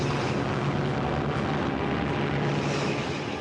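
Loud, steady drone of bomber aircraft propeller engines during a wartime bombing raid, a dense continuous roar with a low hum running unbroken throughout, no voices.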